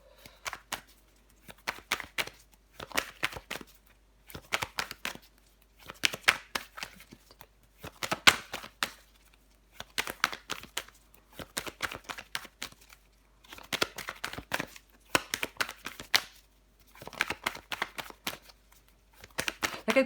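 Tarot cards shuffled and dealt onto a table in a series of crisp, rhythmic riffling and slapping bursts, close and fairly quiet, with short pauses between each handful and no talking.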